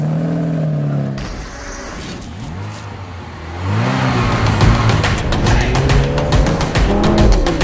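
A Ferrari 456 engine revs close by, its deep tone climbing and falling and then rising again into a louder, sustained rev as the car pulls away.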